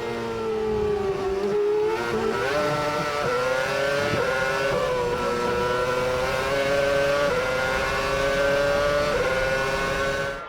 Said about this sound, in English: Kimi continued his push and had no problem relegating his former Ferrari teammate to 9th